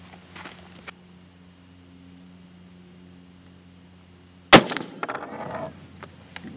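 A single sharp, loud gunshot from an original, unscoped rifle that belonged to a grandfather, fired outdoors at a range. The shot cracks out once after several seconds of quiet hum, then its echo rings off and dies away.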